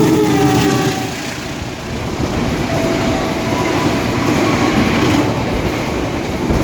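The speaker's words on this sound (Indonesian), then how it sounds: "Persiapan jalur 3 melintas langsung kereta api Sawung Galih." The Sawung Galih express train, running from Kutoarjo to Jakarta Pasar Senen, rushes straight through an Indonesian station with a loud, steady roar and rattling wheels along track 3.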